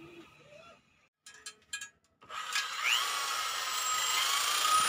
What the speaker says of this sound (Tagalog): medyo gumamit tayo ng improvised grinder kasi bumigay na yung lumang grinder natin